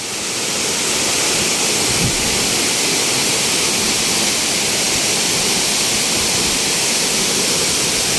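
Liliw waterfall in Laguna pours in a dense, continuous roar of falling water, loud and steady throughout with no voices.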